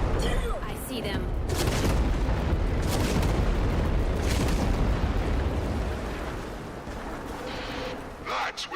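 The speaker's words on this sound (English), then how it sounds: "That was the old Macross cannon." Heavy cannon fire in the game Warframe, a long rumbling booming roar that swells and sustains for several seconds before fading, with a voice talking faintly at the start.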